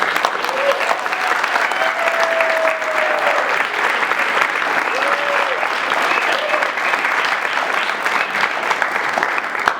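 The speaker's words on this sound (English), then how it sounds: "I want to give you a big round of applause for the students that were there." Sustained, dense applause from an audience for students at a writing showcase fills the space steadily and loudly from start to finish, with a faint tonal whistle or voice drifting through the middle.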